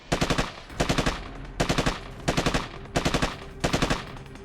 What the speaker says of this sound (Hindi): समझ लीजिए कुछ इस तरह फायरिंग हो रही थी